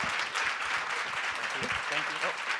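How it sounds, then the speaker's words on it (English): Audience applause at the NBN Summit 2020 advocacy session, clapping for Martin in a steady, even wash across the room, with voices talking over it throughout. "I do want everybody to give Martin a huge round of applause."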